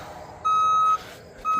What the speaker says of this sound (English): That quickly, it starts beeping.